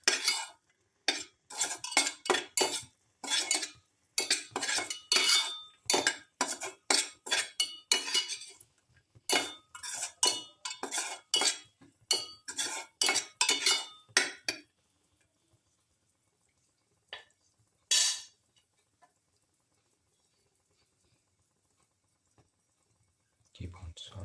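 Spoon or spatula stirring cashews as they sauté in a pan, rapid scraping clinks and clatters repeating for about fifteen seconds, then a few isolated taps, close and fairly loud.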